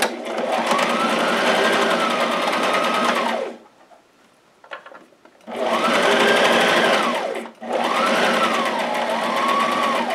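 A sewing machine runs in long steady bursts while stitching the bottom hem of a dress along the center front seam, with a brief pause and a short stop between the loud, close whirring runs.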